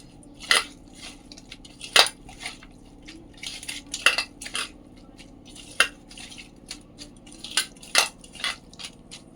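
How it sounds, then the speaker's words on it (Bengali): Chopped chilli pieces are ground into a paste, giving a series of sharp, close scraping and clacking strokes at an uneven rhythm, each burst short and distinct against a quiet background. "এইটা এবার সুন্দর করে একটু পেস্ট করে নেব"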